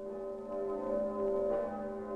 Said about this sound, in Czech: rozhlaholte se pražské zvony